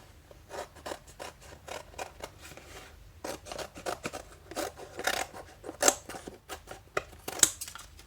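Scissors snip out a paper fish outline at close range, a series of uneven crisp cuts and rustles that come in quick bursts and pauses.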